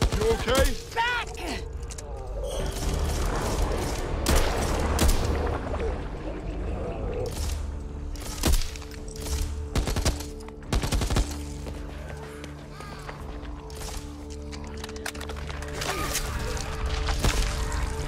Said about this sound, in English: Why are you shooting at me?